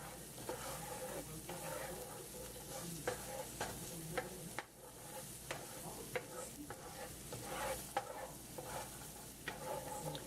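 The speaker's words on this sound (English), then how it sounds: "stirring it for about 3 minutes, it said. And sauteing it to get brown" Chopped onions sauté in a pan for green chile pork chops, sizzling steadily while a utensil stirs and scrapes them in irregular clicks and knocks over about ten seconds, with no talking.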